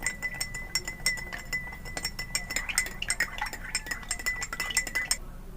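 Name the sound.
spoon stirring sugar in a glass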